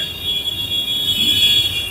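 A Hyderabad Metro train at Lakdi-ka-pul station gives a steady hum with a thin, sustained high-pitched whine over a soft rumble, close and continuous.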